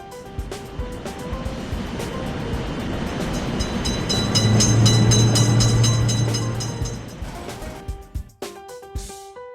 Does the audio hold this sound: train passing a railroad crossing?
yes